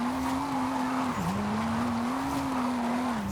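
In Forza Horizon 5, the street tires of a car drifting give a sustained, fairly soft squeal over a steady engine hum, with one brief dip in pitch as the slide holds for about three seconds, without any talking.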